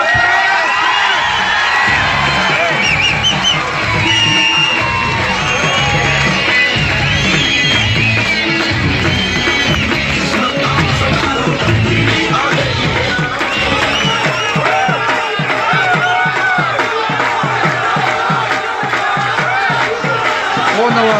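A large crowd at a political gathering cheers, whoops and shouts continuously to welcome the Chief Minister of Khyber Pakhtunkhwa, a loud, dense roar of many voices that never lets up.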